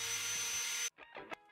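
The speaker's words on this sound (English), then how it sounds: "I'm just gonna drill 2 holes in between the marks" A power drill bores a pilot hole into a wooden shelf plank with a steady, loud high whine, then cuts off abruptly, followed by a few brief scraping and knocking handling sounds close by.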